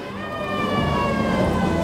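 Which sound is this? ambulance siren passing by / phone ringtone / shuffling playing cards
ambulance siren passing by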